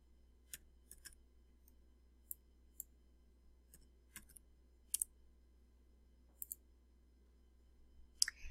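A computer mouse clicking in a quiet room, a dozen or so crisp, faint clicks scattered irregularly, some in quick pairs, with no talking.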